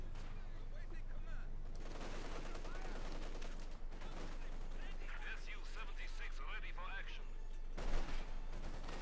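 Scattered gunfire and explosions from the strategy game Company of Heroes 2 rumble in the distance, with battlefield noise under steady commentary and a louder thump near the end.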